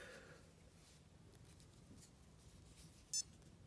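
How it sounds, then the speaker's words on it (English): A Garmin Instinct watch gives a single short, high electronic beep during compass calibration. It comes near the end, against quiet background rustle. "And you hear a little beep,"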